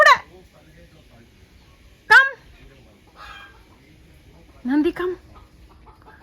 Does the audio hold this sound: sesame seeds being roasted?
no